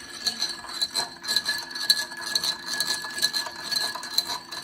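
A spoon stirs a cocktail of lemon juice and grenadine in a glass, giving quick, regular clinks and light scraping against the glass, close up and repeating steadily with no talking.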